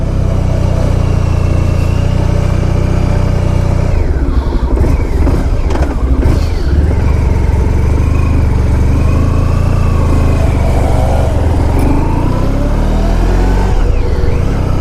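Engine of a 1994 Honda ST1100 motorcycle running loud and steady while riding, with a low drone that shifts pitch around the middle as the rider changes speed, no talk.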